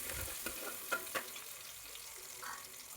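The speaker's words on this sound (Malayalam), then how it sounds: "2-3 ടേബിൾ സ്പൂൺ ഇഞ്ചി വെളുത്തുള്ളി അരിഞ്ഞത്, 2-3 പച്ചമുളക് ഇത്രയും ഇട്ടൊന്ന് വഴറ്റിയെടുക്കാം." Chopped ginger, garlic and green chillies sautéing in oil for Kerala-style pork roast, a faint steady sizzle with a few soft stirring clicks, alone.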